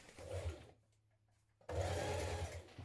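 A domestic sewing machine stitches down a coat strap, running in a steady whirring burst, then stopping briefly before starting again loud and close.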